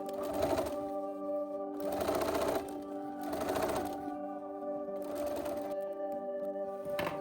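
Sewing machine or serger stitching a sleeve seam in short bursts, about four runs of fast needle clatter separated by brief pauses over a steady background hum, close by with no talk.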